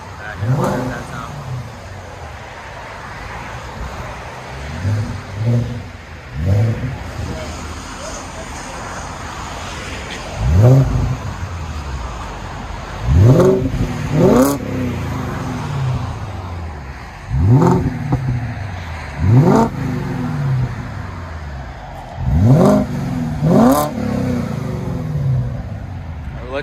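BMW 540i from 2000 with a 4.4L V8, six-speed manual and a muffler delete, heard from inside the car: repeated revs rising and falling through gears, loud and throaty between quieter idle stretches.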